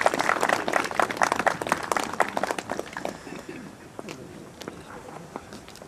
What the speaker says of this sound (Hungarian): Kérem, hogy egy tapsot tegyük teljessé ezt az ünnepélyes pillanatot.